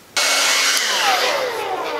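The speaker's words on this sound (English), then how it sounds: "And then get my blow dryer on the job." A blow dryer switches on abruptly and runs steadily on a wig, a close, loud airy whoosh with a faint falling whine as it keeps blowing.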